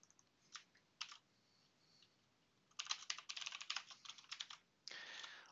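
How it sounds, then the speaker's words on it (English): Computer keyboard typing during a live web programming session, with a few isolated key clicks followed by a rapid run of close, clacky keystrokes and a final burst, fairly quiet overall. "the entire clicky clack effects that I'm doing during the typing"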